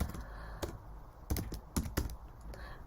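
Computer keyboard keys clack in quick irregular bursts, close and clear against a quiet room with faint background hiss.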